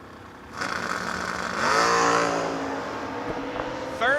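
Drag race cars, one of them a Chevelle, launch and roar down the strip, the engine noise swelling loud around the midpoint and then easing off, with a brief high whine near the end.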